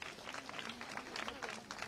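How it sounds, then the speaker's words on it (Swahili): Scattered applause from an outdoor crowd honouring rural doctors, faint and distant, with clapping in irregular bursts over background murmur. "tuwapigie makofi tena"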